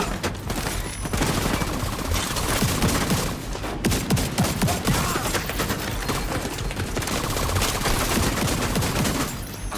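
Sustained automatic gunfire emptying a magazine in the video game The Division 2, a dense, loud, continuous stream of shots with brief gaps, close and dominant throughout.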